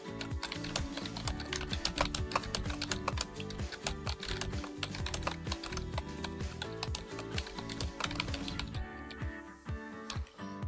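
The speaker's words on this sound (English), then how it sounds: "I'm just gonna keep typing" Rapid, continuous keystrokes clatter on a computer keyboard, close and steady, easing briefly near the end.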